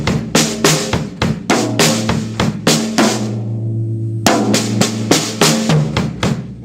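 A busy one-measure drum kit fill with rapid sixteenth-note hits across toms and snare, including a high tom, briefly ringing out before the groove resumes, loud and close.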